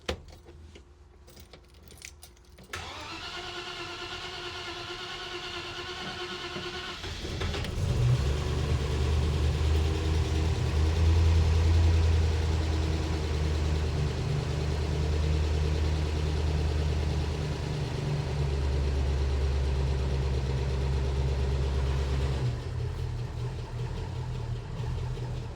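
A Land Rover Series 2A needing a bit of choke has its keys jangle, then cranks briefly and starts, settling into a loud, rough, steady idle that runs on until it drops near the end.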